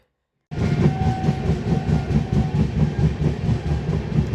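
A passenger train running on rails between Jalandhar in Punjab and Nanded, heard from inside as a loud, steady rumble with rhythmic wheel clatter that starts abruptly after a brief silence and carries on throughout.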